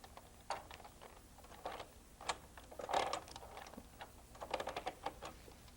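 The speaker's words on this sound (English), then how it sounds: "Again, we will place it into the machine." A punch pattern card being fed into a knitting machine, with soft mechanical clicks and rattling taps in scattered bursts, faint and close in a quiet room.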